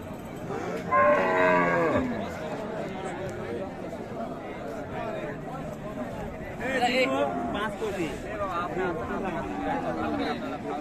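Cows moo loudly and close at a busy cattle market, two drawn-out calls from a cow with her calf, over steady crowd chatter and people talking throughout.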